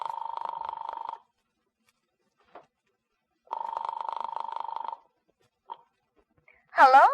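A telephone handset gives two long buzzing rings separated by silence, with faint clicks between them, then a short voice cuts in at the end.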